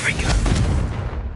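Confringo blasting spell exploding in the Hogwarts Legacy video game, a short, loud, full-bodied boom with a rumbling low end that decays over about a second.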